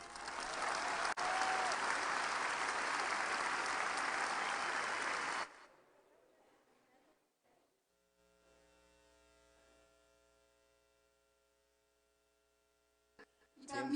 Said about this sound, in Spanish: recibamos con un aplauso a Laura Esquivel.